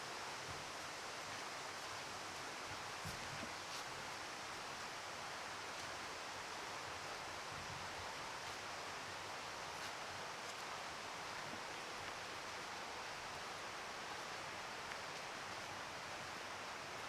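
Forest ambience in an enclosed, quieter spot, with a steady broadband wash of a distant creek and faint rustling leaves, continuous and even throughout.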